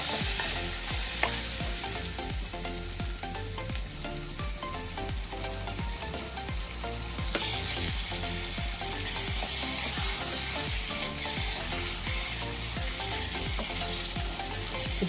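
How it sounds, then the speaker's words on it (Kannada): Mushrooms frying on high flame in a pan for mushroom tikka masala, a loud continuous sizzle with rhythmic stirring scrapes throughout, close and steady with no talk. "ಇದು ನಾವು ಹೈ ಫ್ಲೇಮಲ್ಲೇ ಫ್ರೈ ಮಾಡಬೇಕು."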